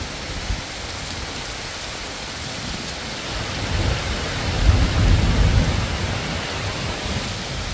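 Heavy rain pours down steadily in a village during a dark afternoon storm with strong wind, and a low roll of thunder swells midway beneath the dense hiss.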